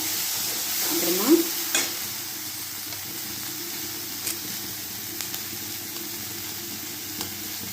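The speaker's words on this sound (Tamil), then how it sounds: "எல்லாம் போட்டு நல்லா கொஞ்சம் சாட்டேஜ் பண்ணிக்கோங்க" Ingredients sautéing in a pan, a soft continuous sizzle and hiss with a few scrapes and clicks of stirring, moderately quiet and steady throughout.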